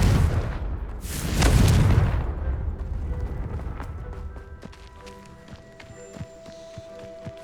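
A Confringo fire spell explodes in the video game Hogwarts Legacy as a loud boom, with a rumbling burst that swells then fades into scattered crackles and small impacts.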